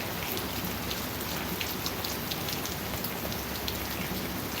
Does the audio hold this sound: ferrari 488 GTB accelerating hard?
no